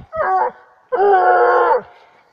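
A griffon nivernais hound on a leash gives a short yelp, then a longer drawn-out baying howl, close and loud with brief quiet between.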